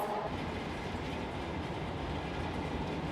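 A train rumbles steadily from inside a carriage, a constant low roar of wheels and motion with no talking.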